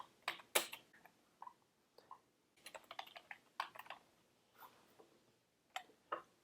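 Someone types an account name into software on a computer keyboard: quiet, close key clicks in short irregular bursts separated by brief pauses.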